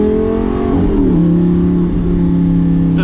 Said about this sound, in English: So we'll keep it in sport, we'll do an acceleration